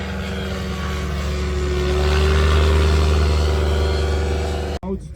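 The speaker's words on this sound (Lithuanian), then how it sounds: "visi dabar per karštį keliaujam žiūrėti, kaip stol lėktuvėliai kyla" A STOL light aircraft takes off at an airfield competition, its engine building to a loud, steady mid-pitched drone that peaks in the middle and then cuts off abruptly near the end, with faint voices underneath.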